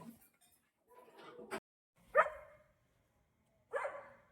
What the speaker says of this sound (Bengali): কুকুরে ঘেউ ঘেউ করছে।